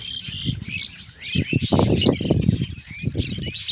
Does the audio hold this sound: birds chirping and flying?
yes